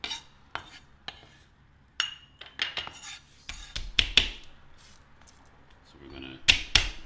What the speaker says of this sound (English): You can usually scoop most of it off of the cutting board with a knife.